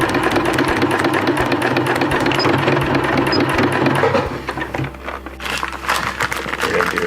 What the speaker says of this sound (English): So now you're sewing around, but there's no webbing there.